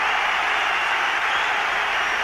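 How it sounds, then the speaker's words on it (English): A football crowd at the 1991 FA Cup fifth-round second replay between Everton and Liverpool applauds and cheers Pat Nevin, a dense, steady roar of clapping that holds at the same level throughout. "And a great cheer for Pat Nevin."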